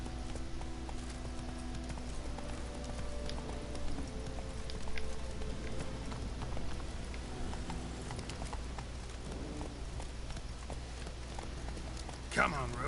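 Galloping hooves of a horse in The Witcher 3 video game, a steady clip-clop running throughout at moderate level, with someone talking over it and a brief sharp accent near the end.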